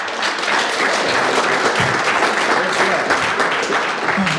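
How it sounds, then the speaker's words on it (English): An audience at a live tech community presentation applauds steadily, a loud, dense wash of clapping filling the whole stretch without letting up. "a round of applause for all these developers from the community"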